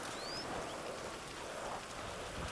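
Steady, even rainfall hissing continuously in the video game Grand Theft Auto Online, a dense wash of patter with no pauses and no voices.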